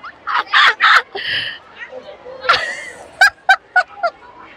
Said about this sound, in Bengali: ডাকটা কেমন পেছন দুলিয়ে দুলিয়ে যাচ্ছে, দেখো